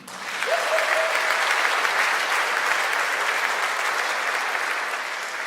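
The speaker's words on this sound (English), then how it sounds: "A round of applause for Google and the Angular team." A conference audience at an Angular developer event in Berlin bursts into sustained, dense applause that holds steady for several seconds before easing slightly, with a few faint cheers mixed into the clapping.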